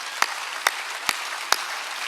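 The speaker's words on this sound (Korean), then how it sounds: "깨달은 사람만 박수 치라고." Four loud, evenly spaced claps ring out over a steady hiss in a church service, sharp single hits roughly every half second rather than a crowd's applause.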